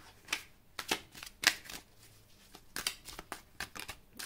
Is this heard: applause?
no